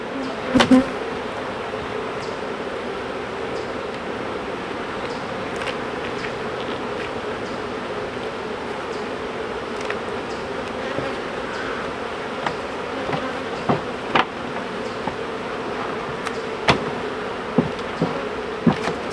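Honeybees buzzing around an opened hive after a swarm, a continuous close drone with individual bees zipping past and occasional soft knocks of hive parts.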